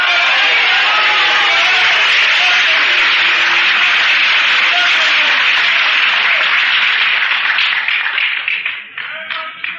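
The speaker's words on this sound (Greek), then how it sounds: "αυτά τα χειροκροτήματά σας δεν είναι τυχαία" Loud, enthusiastic audience applause in a hall, a dense wash of clapping that holds steady for most of the stretch before thinning out near the end.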